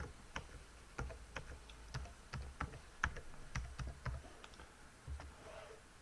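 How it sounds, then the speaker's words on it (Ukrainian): A password being typed on a computer keyboard, with a quiet, close run of irregular key clicks and taps over a faint room hush and no talking. "Ось пишемо свій пароль."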